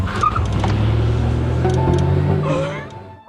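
In a film scene, a car's engine hums and rumbles steadily up close, then fades as the vehicle drives off, with its tone dropping away toward the end.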